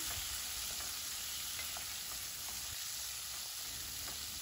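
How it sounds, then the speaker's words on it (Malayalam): Chopped green tomatoes stirred in a frying pan for a green tomato chutney: a steady, even sizzle with soft stirring under it, close and continuous, no voices. "ഇതിലേക്ക് അരിഞ്ഞു വെച്ച പച്ച തക്കാളി ചേർക്കാം രണ്ട് മിനിറ്റ് തക്കാളി ഒന്ന് ഇളക്കി കൊടുക്കാം"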